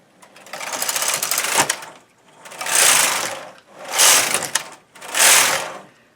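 A knitting machine carriage knits rows on a bulky fingerless glove in English rib, making four loud, close mechanical whirring passes, each a couple of seconds long and separated by brief pauses.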